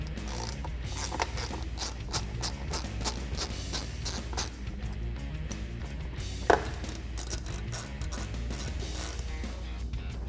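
A ratchet wrench backs out 8 mm screws holding a plastic cover on a Jeep Wrangler JL, giving rapid rhythmic clicking in bursts, close and fairly loud, with one sharper metallic knock near the end.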